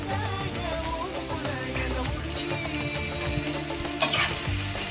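Onion, green chili and curry leaves fry in a pan, giving a close, crackling sizzle with repeated scraping stirs and a louder clatter near the end, with no speech.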